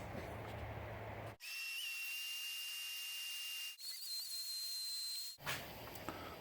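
Shop vac drawing air through newly installed friction-fit dust collection piping in a small shop, a steady loud airy roar with a whistling tone that shifts pitch partway through, starting and stopping abruptly.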